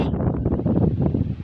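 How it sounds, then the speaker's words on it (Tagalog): Strong wind buffets the microphone outdoors near a pigeon loft, a dense continuous roar rumbling steadily with no talk over it. "Grabe ang hangin kasi."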